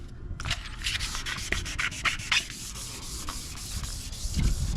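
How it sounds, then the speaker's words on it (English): Car paint is wet- or dry-sanded by hand with 600 grit sandpaper, a close, steady run of scratchy back-and-forth rubbing strokes with no talking. "And then I'm going back to the 600 grit to make sure that everything is nice and smooth."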